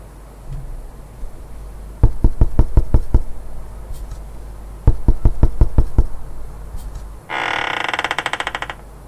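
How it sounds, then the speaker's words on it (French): Two quick bursts of knocking on a door, five or six evenly spaced raps each, sound loud and near, followed by a short rattling, buzzing noise. "Il frappa à la porte."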